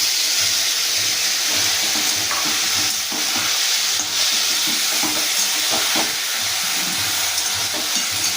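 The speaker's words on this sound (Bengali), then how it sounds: "আলু আর পেঁয়াজ আমার ভাজা হয়ে গেছে, এবার আমি আদা আর কাঁচা লঙ্কা বাটাটা আলুর মধ্যে দিয়ে দিচ্ছি" Ginger and green chili paste fries with potatoes and onions in a pan, a loud close sizzle under repeated rhythmic stirring and scraping strokes, no speech.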